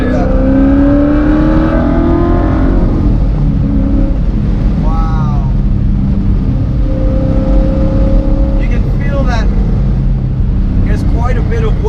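Sports-car engine noise from a 730-horsepower Corvette, loud and close inside the cabin as revs rise and fall through a rev-matched downshift, with people talking over it.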